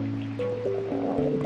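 Water being placed from an unlimited water source in Minecraft, a short liquid pouring and trickling game sound with bubbly tonal blips, close and fairly loud, with no talk.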